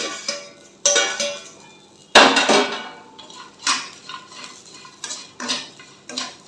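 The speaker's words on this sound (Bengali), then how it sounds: "লঙ্কা কুচিগুলো দিয়ে দিচ্ছি তাহলে হালকা হালকা ভাজাও হয়ে যাবে" Flattened rice is stirred in a pan with chopped chilli, peanuts and curry leaves, with a metal spatula scraping and clattering against the pan in irregular bursts over a faint sizzle.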